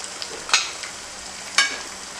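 A spoon scraping and stirring sauce in a pot for red fish benachin (thiebou dieune), two distinct clinking strokes over a soft, steady sizzle.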